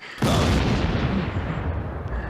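Booming gunshot and bomb effects within a song: a sudden loud blast followed by a dense, rumbling wash of explosive crackle that sustains and slowly fades.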